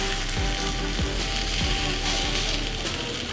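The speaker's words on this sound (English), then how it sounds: "prepare to put one tortilla on top of the oil and let it fry" A tortilla fries in hot oil in a pan for lobster tacos, producing a steady, dense sizzle with a few soft scraping ticks, close and constant throughout.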